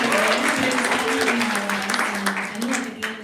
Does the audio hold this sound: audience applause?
yes